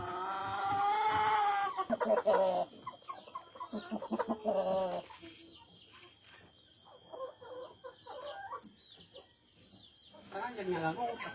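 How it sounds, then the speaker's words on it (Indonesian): Free-range village chickens cluck and call nearby in short bursts, with brief clucking phrases scattered through the quieter stretches and a louder call at the start. "Ini caranya kerja Nengawat untuk memelihara ayam kampung ini."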